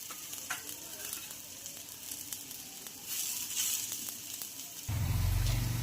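A green moong dal and jowar flour dhirde roasts in a pan, hissing and crackling steadily, the sizzle rising a little midway before a low rumbling burst takes over at the end.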